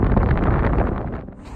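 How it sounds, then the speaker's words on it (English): Strong wind buffets the microphone high up at a zoo, a loud continuous rumble that roars steadily throughout and eases slightly near the end. "it is incredibly windy up here"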